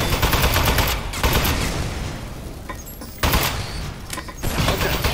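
A gun in the game Aperture Desk Job fires in loud, rapid continuous bursts close up, roaring almost without pause, with a couple of brief dips before the firing surges again.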